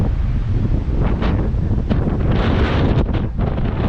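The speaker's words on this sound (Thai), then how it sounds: "ตอนนี้ลมแรงมาก" Strong wind blasts across the microphone in a loud, constant roar with rushing gusts beside a blue lake near the Perito Moreno Glacier in Argentina.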